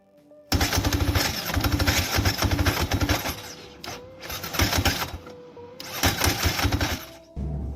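A quad's engine cranks and sputters in rough, repetitive bursts, catching briefly and then dropping off, with several restart attempts separated by short pauses.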